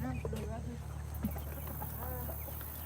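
Chickens cluck repeatedly nearby in a yard, short choppy calls over a steady low hum, with a person talking softly in between.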